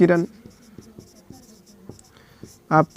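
Chalk or marker taps and scratches on a board during a physics lesson, short strokes in an irregular rhythm between bursts of a teacher's speech.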